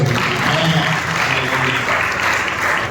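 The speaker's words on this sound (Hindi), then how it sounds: "ताली मारो, धन्यवाद करो" A congregation at a Sunday church service claps together loudly, a thick continuous roar of hands with crowd noise and raised voices mixed in underneath.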